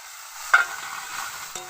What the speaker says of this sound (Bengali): হালকা ভেজে নিয়েছি, এবার মশলাগুলো দিয়ে দিচ্ছি।